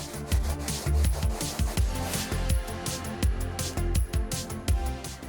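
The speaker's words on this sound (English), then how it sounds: "I'm gonna do the final scrub and then we're gonna see if it's stained." Brisk back-and-forth scrubbing of a ketchup stain on pet-friendly carpet, loud and close, with rhythmic rubbing strokes repeating steadily throughout.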